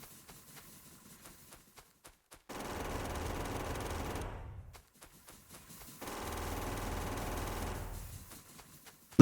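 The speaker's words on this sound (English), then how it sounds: "A little bit of demolitions with an automatic rifle." Automatic rifle fire in Factorio comes as two sustained bursts of rapid, even shots, each lasting about two seconds, separated by quiet gaps with faint clicks.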